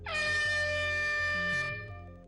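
A single loud, sustained air horn blast on a TV game show, with a bright, brassy tone, fading slightly at the end.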